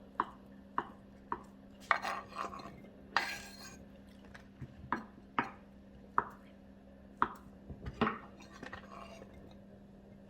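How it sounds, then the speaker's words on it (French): Knife chopping surimi into small pieces on a cutting board, a dozen or so sharp separate chops at an irregular pace, close and fairly quiet over a steady low kitchen hum. "maintenant, je vais couper les surimi en petits morceaux"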